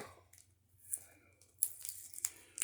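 Tape and packaging on a package of mail-order DVDs are torn open by hand without scissors, giving a few short, sharp ripping bursts between quiet pauses, close and fairly soft.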